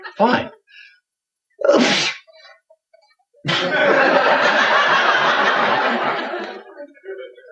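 Two sharp sneezes in quick succession in a 1999 TV sitcom, a brief spoken word, then a long burst of loud studio audience laughter that slowly fades.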